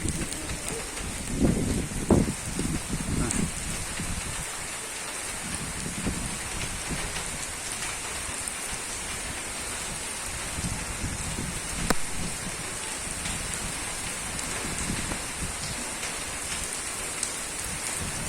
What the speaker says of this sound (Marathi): इकडे पाऊस, इकडे पाऊस